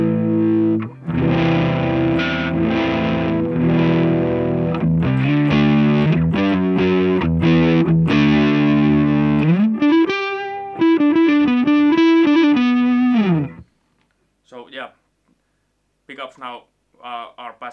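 An Ibanez Musician MC400DS electric guitar on its neck pickup plays through heavy distortion and effects, with chords, then a melodic sliding lead line, then stops. A few short sparse notes follow after a brief gap.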